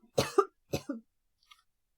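Two close, harsh coughs from a person, quickly following each other, then a faint short sound and silence, heard alone without speech.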